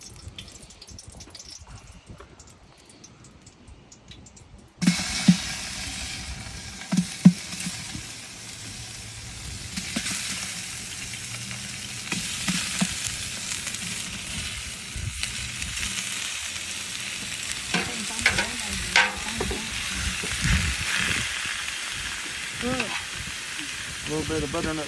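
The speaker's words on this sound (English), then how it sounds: "now our oil is really good and hot there in the bottom of the pan. We're going to go in with our pork now." Pork searing in hot oil at the bottom of a pan for a pumpkin spice stew, a loud crackling sizzle that bursts in after a quiet start and keeps spitting and hissing steadily, with occasional sharper pops.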